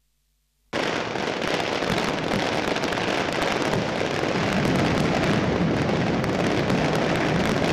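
A dense, nonstop barrage of fireworks bursts and crackles erupts suddenly after a brief silence, loud and sustained throughout, at the Thrissur Pooram festival.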